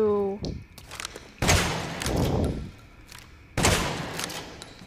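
Gunfire in the horror video game Resident Evil Village, several sharp bursts of shots with echoing tails spaced across the clip, alongside a short musical sting at the start.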